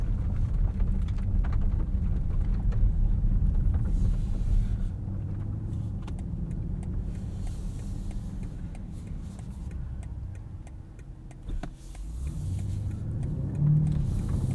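Steady low engine rumble and road noise from a 2020 Alpina B7 xDrive driving on back roads, continuous and fairly loud, with a slight dip and bump partway through.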